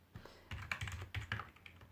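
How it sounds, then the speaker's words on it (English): Fingers tapping numbers on a computer keyboard, a quick run of close, crisp key clicks in irregular bursts with short pauses, no voices. "you're going to have to wait me out as I type some numbers"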